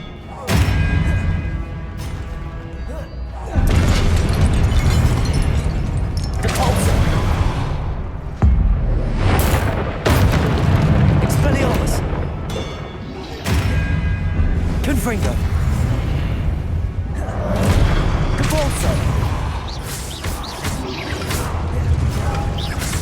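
Spell combat in Hogwarts Legacy, with the Confringo explosion spell cast repeatedly: loud booms, thuds and crashing blasts recur across the stretch amid dense battle noise, while a voice keeps shouting spell names over the action.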